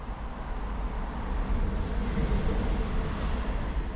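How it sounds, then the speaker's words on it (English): Deep, steady rumble of a train running through the Tankersley tunnel, heard from beside its ventilation shaft in woodland, swelling slightly midway and sustained without pause. "So that was a train."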